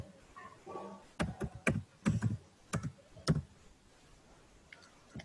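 Typing C code on a computer keyboard: several close, crisp key presses in an irregular cluster, including a few heavier taps, then the clicking falls quiet.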